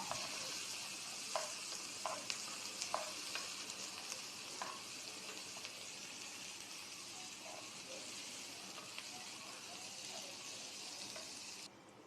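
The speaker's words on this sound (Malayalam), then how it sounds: "നന്നായിട്ടൊന്ന് വഴന്ന് വരുന്ന വരെ ഇളക്കി കൊടുക്കുക." Tomatoes with salt are stirred and sautéed in a pan for an egg thoran, giving a soft, fairly faint sizzle punctuated by occasional light utensil taps.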